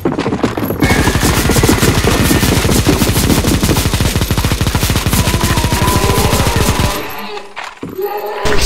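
Sustained rapid automatic gunfire in CS:GO zombie escape mode during a boss fight on ze_necromanteion, many guns firing in a dense, continuous stream for about six seconds before cutting off into quieter game sounds.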